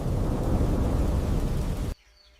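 Heavy rain and rolling thunder in a forest make a loud, dense broadband roar that cuts off abruptly near the end, leaving near silence.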